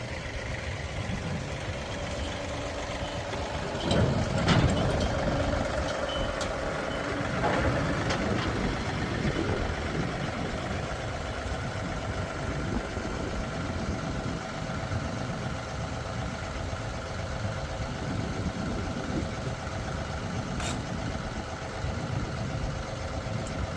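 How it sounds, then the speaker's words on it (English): A tractor engine idles with a steady low rumble while it rolls up onto an auction trailer, running close and continuous throughout, with a few knocks and clunks early on and no talk. "Let's roll the tractor up on the trailer."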